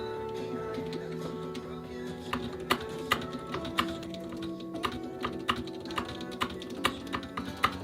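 Typing on a computer keyboard while writing a novel, with irregular bursts of soft clicking keystrokes at close range under steady background music.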